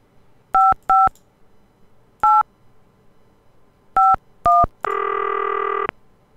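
Telephone keypad tones from the 1989 computer game Cosmic Osmo: five short, evenly loud dual-tone beeps in irregular rhythm, followed by a longer held tone of about a second, clear and alone with no talking.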